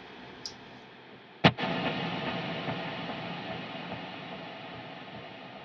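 A single sharp guitar strike through an HX Stomp or Helix effects unit is followed by a sustained, washing tail of delay repeats and ambient reverb that slowly fades, with no voices.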